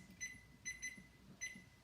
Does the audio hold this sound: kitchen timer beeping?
yes